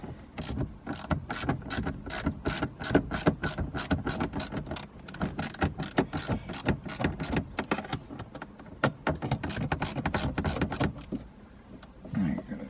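Under a Mercedes W201 steering column, a 10mm fastener is tightened with a hand ratchet, a fast steady run of close clicking pawl ticks lasting several seconds before a brief pause and a few more clicks.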